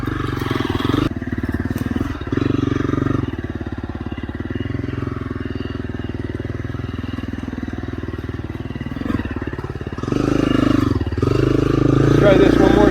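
A motorcycle with a freshly adjusted clutch idles and rides with a low, even engine drone, rising into louder revving bursts near the start and toward the end, with a voice speaking over it.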